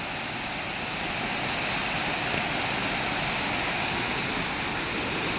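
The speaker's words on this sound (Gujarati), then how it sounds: "ધોધ છે" A waterfall beside the Saputara Dang road rushes in full flow, a steady, dense roar of falling water with no pauses throughout.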